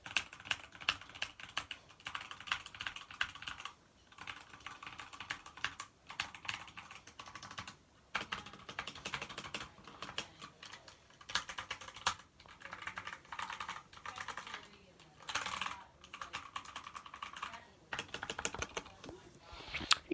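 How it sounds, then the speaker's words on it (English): Rapid typing on a Redragon Kumara K552 mechanical keyboard, dense bursts of close, clacky keystrokes with brief pauses between runs, heard alone. "keyboard sound test. This is the Red Dragon Kumar"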